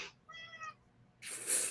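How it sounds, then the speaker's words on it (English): A house cat gives one short, clear meow, close and fairly quiet, framed by brief bursts of rustling noise before and after. "These cats like their airtime."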